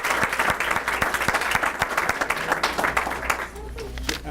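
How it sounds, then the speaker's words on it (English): An audience at a workforce development center's 10th anniversary celebration applauds, sustained clapping from many hands that holds steady and then eases slightly near the end. "Give yourselves a round of applause."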